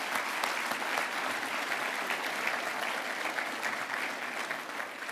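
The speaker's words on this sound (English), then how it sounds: "Please, yes, give them a round of applause." A conference audience at Marquette University's real estate strategies event gives the standing advisory board a round of applause, the clapping even and sustained, heard from a moderate distance and fading slightly at the end.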